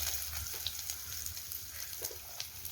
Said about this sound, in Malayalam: ഇനി നമ്മൾ അരപ്പിട്ട് മൂപ്പിക്കുകയാണ് ഈ എണ്ണയിൽ